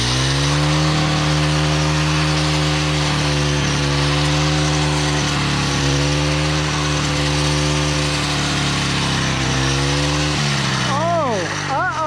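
A loud string trimmer fitted with a heavy-duty metal brush-cutting blade drones steadily, its engine pitch dipping and rising as it bites into brush, with a brief revving sweep at the end.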